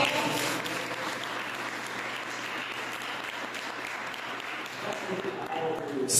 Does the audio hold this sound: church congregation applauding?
yes